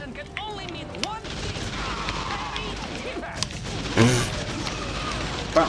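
A single explosion in the video game TimeSplitters: Future Perfect bursts midway as a loud, sharp blast within a busy game soundscape of effects and character speech.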